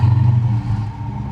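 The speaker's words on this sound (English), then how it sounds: "Oh, Colin, start her up." Dodge Challenger engine turning over and catching, a brief, close, deep low rumble that settles into a steady throb.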